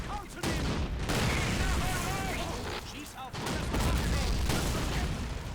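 Sustained 25 mm cannon fire and battle noise in the Men of War: Assault Squad 2 strategy game, a dense continuous barrage of shots and booms with a short lull near the middle, with talk likely mixed in.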